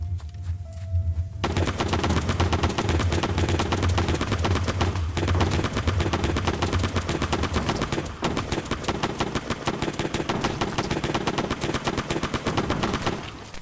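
Rapid, steady gunfire from a weapon picked up in the game No More Snow, continuous and loud for over ten seconds after a brief quiet start, with a dense rattling rhythm.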